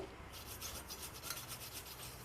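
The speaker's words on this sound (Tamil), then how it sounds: "லைட்டாக தேய்க்கும் போதே எவ்வளோ சீக்கிரம் போயிடுச்சு பாருங்கள்" A burnt-on pot is scrubbed lightly, a soft rhythmic rasping rub that repeats in quick strokes, close and fairly quiet with no talking.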